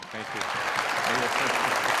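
Studio audience applause on a Pakistani Independence Day television show, a dense steady wash of clapping that fills the whole moment, with a presenter's voice partly audible over it.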